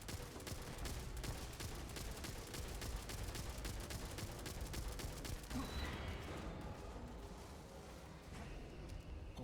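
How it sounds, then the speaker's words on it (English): Rapid assault rifle fire in the space-exploration video game Starfield, dense sustained bursts of loud close shots for most of the stretch, thinning toward the end. "We're just using an assault rifle instead."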